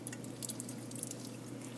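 Water drips and trickles faintly while a Wright's-stained blood slide is rinsed and flipped under running water, a soft continuous splashing with small irregular droplet ticks.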